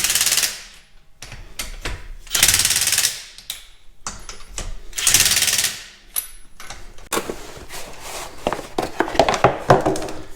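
A Kobalt 24v impact driver snugging lug nuts on a Subaru Forester wheel, loud repeated bursts of rapid hammering rattles separated by short pauses, ending in a busier stretch of clicks and handling noise.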